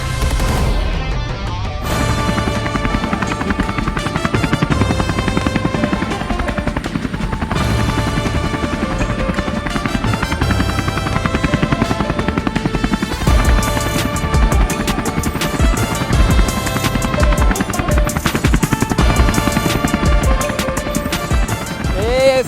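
A helicopter carries a motorcycle through the air, its loud, rapid rotor chop and turbine whine continuous and close throughout, with voices talking over it.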